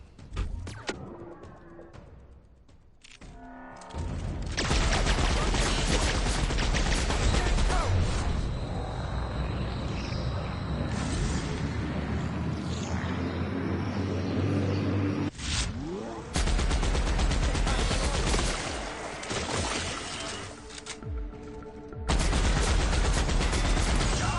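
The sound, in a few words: gunfire from a gun in The Outer Worlds video game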